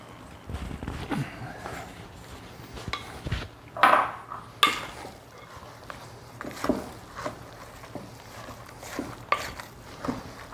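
A spoon stirs chopped pecans into thick apple cake batter, giving close, irregular scrapes and light clinks against the bowl with no talking.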